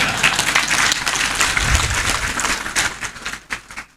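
Audience applause in an Indonesian religious lecture hall, a dense patter of clapping that runs steadily for several seconds, then thins and falls off toward the end.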